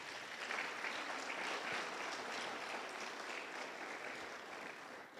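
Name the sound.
audience applauding in church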